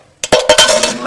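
A metal can clinks and rattles in a quick burst of bright, jangling knocks, close up, with no talking over it.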